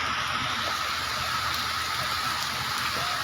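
Heavy rainwater rushing down a hillside among houses during monsoon rain, a loud steady wash of flowing water and rain hiss with no pauses.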